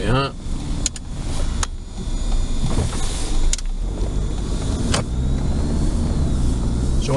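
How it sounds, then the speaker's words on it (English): A used car drives along a winding road, its engine humming steadily inside the cabin while sharp clicks and knocks punctuate the ride and a voice speaks at times. "we're going to take this car on a nice windy road"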